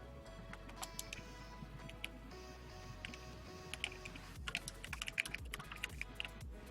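Fingers typing on a computer keyboard in a steady, continuous patter of soft key clicks with no talking, set against a constant low background hum.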